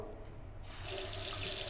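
A hotel bathroom washbasin tap runs water into the sink, a soft steady splashing stream that opens up and grows brighter partway through, with no voices.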